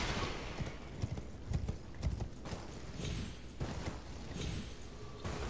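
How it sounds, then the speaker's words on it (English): Hooves clip-clop in a fast, steady gallop as a horse runs in the video game Elden Ring, a continuous rhythmic pounding with no talking. "you can hop on your horse"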